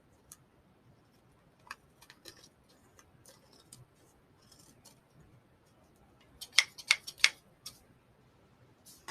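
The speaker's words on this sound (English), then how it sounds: "just make sure that you cut off all excess" Scissors snip excess paper from an envelope paperclip at close range, giving scattered small clicks, then a quick burst of several sharper, louder snips near the end.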